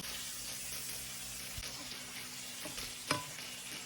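A swordfish steak fries in a pan with butter and avocado oil, giving a steady close sizzle and hiss, with a few soft knocks and a brief clatter as the fish is handled.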